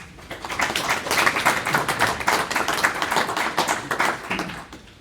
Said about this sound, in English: Also a warm applause for Reda.